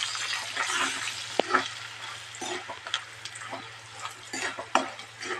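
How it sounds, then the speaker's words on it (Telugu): Spices sizzle and fry in a pan with turmeric, stirred with a utensil that scrapes and taps against the metal in short bursts over a steady hiss, with a low hum underneath. "వేగిందండి, వేగిపోయాయి."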